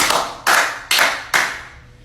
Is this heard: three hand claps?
yes